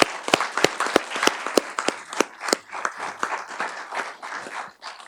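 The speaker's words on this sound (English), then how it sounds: "Let's give them another round of applause." Small audience at a public meeting marking Probation Services Week claps in a brief round of applause, individual sharp claps close and distinct, thinning out toward the end.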